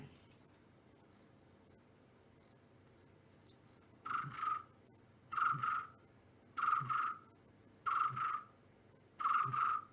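An indoor cricket chirps in five evenly spaced bursts, each a quick rapid trill, in an otherwise quiet room after a few seconds of near silence.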